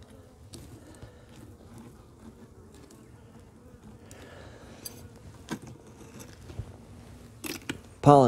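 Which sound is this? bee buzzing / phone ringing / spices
bee buzzing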